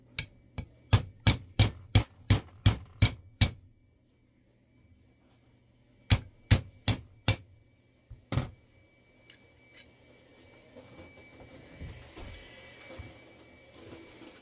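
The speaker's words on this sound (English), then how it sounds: "we're going to remove the bolt catch using a 5/64 punch and hammer" Hammer taps on a 5/64 punch driving out the bolt catch pin of an LR308 lower receiver: a quick run of eight sharp metallic strikes, a pause, then four more and a single hit, followed by quieter handling noise.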